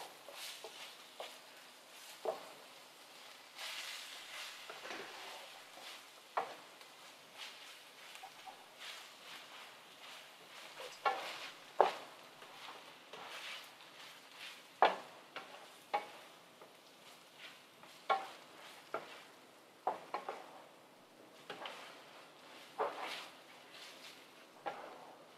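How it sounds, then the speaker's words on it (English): Ginger and garlic stirred through hot oil in a sizzling pan during a matar keema cooking class, a steady fry under repeated scraping strokes of the spoon, close and moderately loud. "add my ginger and garlic. and stir that in"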